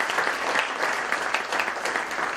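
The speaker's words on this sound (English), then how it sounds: "We'll give them a round of applause" A crowd applauds the young ambassadors of the Books for Buddies program, a full, even burst of clapping heard close and steady for a couple of seconds with no talk over it.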